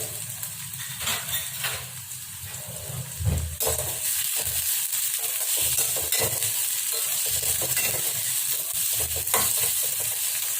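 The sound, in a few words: onions sautéing in a pan with fennel seeds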